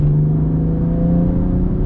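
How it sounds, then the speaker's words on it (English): A BMW M2 CS with a manual gearbox and stock intake, driving with a steady, loud low rumble and constant engine drone heard from inside, no talking over it. "You can hear a lot of intake noise with this engine, which I love."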